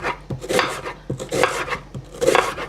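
A knife chops a purple onion on a cutting board, producing a handful of close, crisp strokes in an uneven rhythm with no voices.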